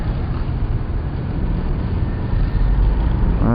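Riding a Suzuki Burgman Street EX scooter through city traffic brings a constant loud rumble of engines and wind noise, steady throughout with no talking.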